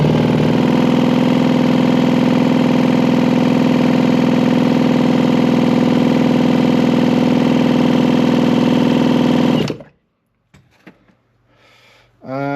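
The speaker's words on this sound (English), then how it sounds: "I'll run the engine until the meter stops." A Yamaha TZR250 motorcycle engine runs steadily, close and loud, for about ten seconds, then cuts off into near silence broken by faint handling noises.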